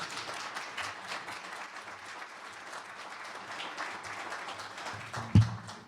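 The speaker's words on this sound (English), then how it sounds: "Please join me in a round of applause for Nancy." An audience at a lecture applauds for a speaker, a steady even wash of many hands clapping at moderate distance, closing with a sharp thump.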